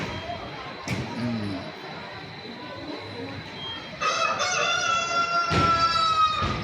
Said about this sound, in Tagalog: Manok ni Kanok Guwapo